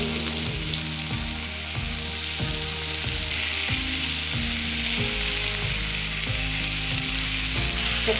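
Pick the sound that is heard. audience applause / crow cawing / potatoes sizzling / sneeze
potatoes sizzling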